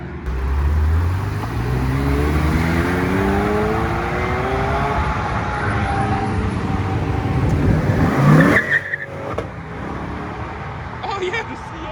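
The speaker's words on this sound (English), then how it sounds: "the C8 giving it some gas" A C8 sports car accelerates hard at a car meet, its loud engine note climbing steadily through the gears for about eight seconds before cutting off, followed by quieter crowd and traffic sounds.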